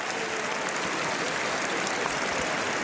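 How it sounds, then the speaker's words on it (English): Crowd packed into a historic town square applauding ahead of a horse race, a dense, continuous wash of many hands clapping at steady loudness throughout, with no clear voices standing out. "You can probably hear the square clapping"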